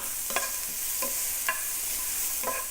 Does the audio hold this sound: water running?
no